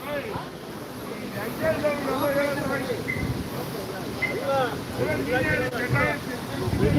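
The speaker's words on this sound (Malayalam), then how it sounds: "നല്ല കാറ്റ് വീശുന്നുണ്ട്" At the Jatayu Earth's Center hilltop, a steady strong wind roars and rumbles against the microphone while a person talks over it throughout.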